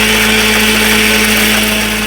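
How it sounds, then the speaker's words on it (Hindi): A loud, steady high-pitched whir of a mixer grinder grinding dried mango runs continuously, its motor droning close by with a rough grinding texture throughout. "अब इसे हम ढक्कन लगाकर ग्राइंड कर लेंगे मिक्सी में।"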